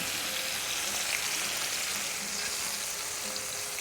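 Pork neck steaks frying in a pan, giving a steady, even hiss and sizzle that holds at a moderate level from start to finish with no voices.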